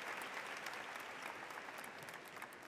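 Applause from a crowd at a high school graduation ceremony, a dense and even patter of many hands clapping that sounds fairly distant and soft and holds steady without voices.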